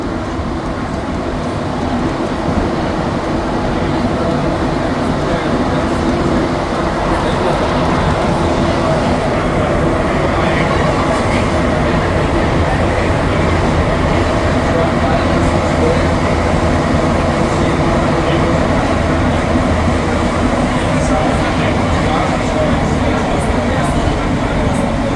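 Steady rumbling roar of a Montreal metro train riding between Montmorency and Lionel-Groulx stations late at night, loud and continuous with faint rail clatter throughout.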